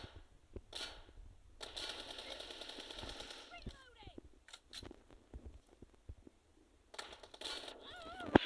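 Rapid automatic gunfire from a video game rattles in long bursts between short pauses, with quieter single shots and a voice talking over parts of it.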